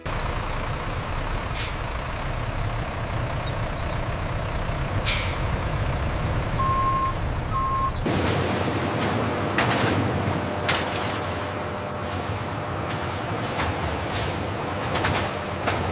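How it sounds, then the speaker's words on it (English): A forklift moves through an aloo paratha factory, with hissing air-brake bursts, a short beep and mechanical rumble over a steady industrial hum, loud and close, without voices. "Watch the forklift coming through."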